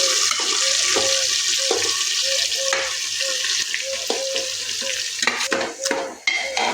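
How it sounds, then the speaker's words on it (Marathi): A spoon scrapes rhythmically against a metal pressure cooker while mutton sizzles and fries steadily underneath, close up with no voices. "आणि हे व्यवस्थित हलवून घ्यायचं म्हणजे खाली कुकरला चिटकलं नाही पाहिजे"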